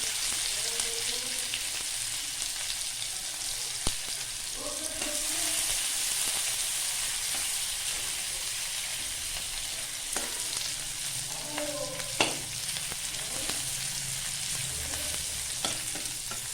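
Garlic frying in oil in a kadai-style wok while methi saag is cooked: a steady, close sizzle with faint scrapes and a few sharp clinks of stirring throughout. No one speaks.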